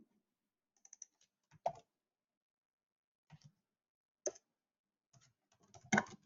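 Computer keyboard keys are tapped while C# code is written, faint scattered clicks in short irregular bursts separated by quiet gaps, no voices.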